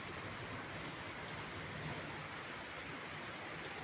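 Heavy rain pours steadily in the evening, a dense even hiss of drops on surfaces that fills the scene without pause, fairly soft in level and with no voices.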